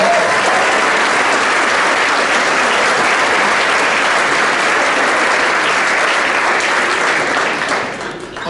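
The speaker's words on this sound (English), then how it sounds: "Give them a round of applause." Loud, thick applause from a crowd at a high school football banquet, cheering the cheerleaders who made it to regionals, sustained steadily and tapering slightly at the end.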